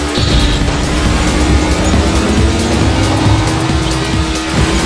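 A racing car engine roars in the Lego Drome Racers video game, loud and steady with a sustained droning whine and constant rumble throughout.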